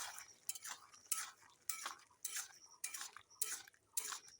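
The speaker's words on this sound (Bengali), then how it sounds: "এবার নেড়ে দেবো" Stirring food in a cooking pot after a splash of raw oil goes in, with a utensil scraping and clinking against the pan in repeated close strokes, about eight bursts in a steady rhythm, with no talk.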